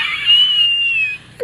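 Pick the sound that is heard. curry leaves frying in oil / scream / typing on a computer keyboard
scream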